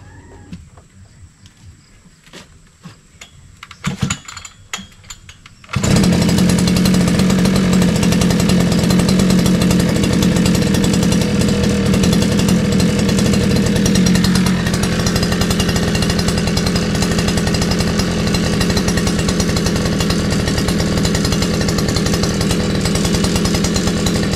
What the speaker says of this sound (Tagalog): Ngayon ay mag-umpisa na po ako sa pag grass cutter.